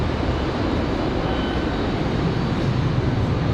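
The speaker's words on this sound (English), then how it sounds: "It was the Lockheed KC-130 Super Hercules, departing a moment ago." Lockheed KC-130 Super Hercules departing Raleigh-Durham International Airport, its engines producing a steady, loud, broadband roar that holds evenly throughout with no voices.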